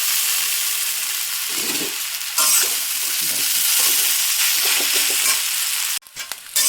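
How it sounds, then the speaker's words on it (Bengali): Boiled chowmein goes into a pan of already fried potatoes, bringing a loud, close sizzle and repeated stirring scrapes, then a sharp clatter near the end. Nobody speaks. "এবার এতে দিয়ে দেবো আমি আমার সেদ্ধ করা চাউমিনটা।"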